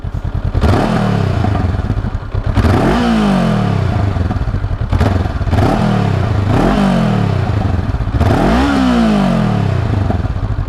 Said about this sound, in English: You can just hear the little pops on the overrun.